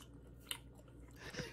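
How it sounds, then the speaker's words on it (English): Someone chewing ice cream makes soft, close, wet mouth sounds, with one sharp bite near the start and a louder squelching chew toward the end, against a quiet background. "Chew your ice cream louder."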